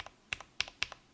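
A custom 65% mechanical keyboard with Tealios V2 switches, a Tofu 65 case and PBT keycaps gives four crisp, close key presses, each a sharp clack followed by a softer release click, in a quiet room.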